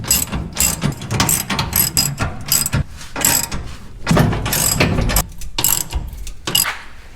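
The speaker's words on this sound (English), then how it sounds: "one of us is gonna run the wrench, the other one's gonna run the ratchet" Hand ratchet clicking steadily while tightening bolts under a Dodge Dakota during a Belltech rear lowering kit install, loud and close with rapid repeated bursts of ratcheting and brief pauses between strokes.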